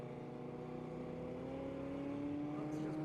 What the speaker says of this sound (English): is that the loudest Prius I've ever heard